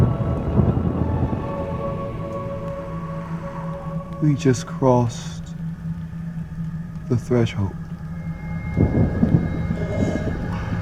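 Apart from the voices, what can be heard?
thunder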